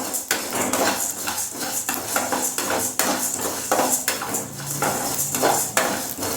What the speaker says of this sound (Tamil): இப்போ வரமல்லி சேர்த்துக்க போகிறோம். நல்லா வறுத்துப்போம்.